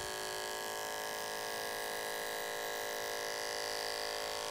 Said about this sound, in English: it's important we go really slow with the clipper and let that clipper work